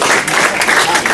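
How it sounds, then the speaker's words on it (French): An audience at a prize-giving ceremony in Nice bursts into brief applause, a dense loud patter of many hands clapping close by. "On va applaudir."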